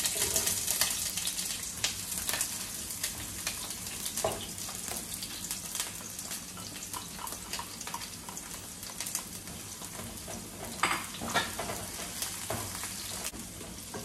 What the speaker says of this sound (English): So the onions and garlic is sauteing.